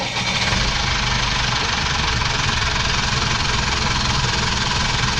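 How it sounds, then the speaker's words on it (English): A boat engine idles close by after a restart, giving a steady low rumble with a faint knocking pulse and no talk. "as soon as I connected everything back up and primed the system, it came right back to life, engine started"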